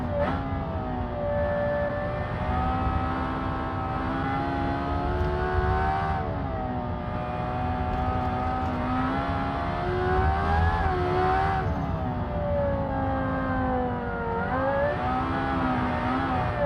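A van's engine in the Automation video game revs continuously around a track, its pitch rising and falling as it accelerates and eases off through corners, steady and fairly loud throughout.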